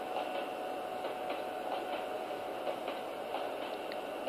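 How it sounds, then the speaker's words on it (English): Long freight train of 73 cars rolling steadily in the Trainz railway simulator, with a continuous faint rumble and regular clickety-clack of wheels over rail joints, no voices. "This train is 73 cars long."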